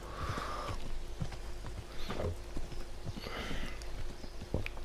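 Horse hooves clop steadily at close range in Kingdom Come Deliverance, an irregular walking rhythm of soft thuds over a low background hum, with a faint snort-like breath now and then.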